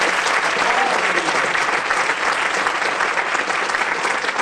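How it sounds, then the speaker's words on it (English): An audience at a theater gives a big round of applause for the theater staff. Dense, steady clapping fills the room at an even level throughout. "Can I get a big round of applause for the Chemo Theater, Craig, and all of his staff here."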